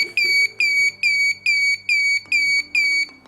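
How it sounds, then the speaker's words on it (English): A fire fighting robot's buzzer beeps eight times in a steady, rapid rhythm, each short bright tone clear and fairly loud over a faint low hum. "This buzzer and LED will beep."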